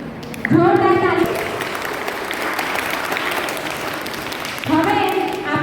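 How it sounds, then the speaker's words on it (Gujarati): Loud applause from a crowd of parents and children at a primary school admission festival in Mahadevpura, rising sharply near the start, holding steady, then swelling again toward the end. "જોરદાર તાળી."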